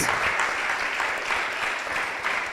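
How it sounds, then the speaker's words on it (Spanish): Congregation applauding during a Sunday church service in Mar del Plata, a steady, dense wash of clapping lasting throughout, moderately loud and continuous with no speech over it. "¿Cuántos le dan un aplauso al Señor por su bendición?"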